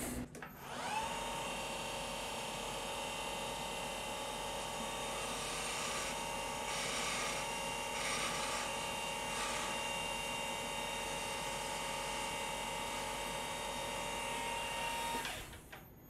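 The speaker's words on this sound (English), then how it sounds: "Now we take a small carbide part of blade and cut it off." Small stainless steel part on a lathe being parted off with a carbide blade: a steady high-pitched machining whine with a tonal ring runs continuously for about fifteen seconds, then stops; no talk.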